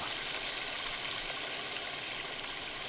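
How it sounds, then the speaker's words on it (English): A babbling brook in the survival game Sons of the Forest: steady, full-bodied flowing and splashing water, close and constant with no talk. "Got ourselves a nice babbling brook."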